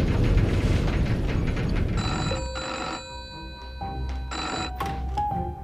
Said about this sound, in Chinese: 请接电话